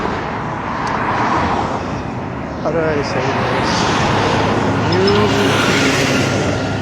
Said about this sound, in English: I'm on a main street, so lots of cars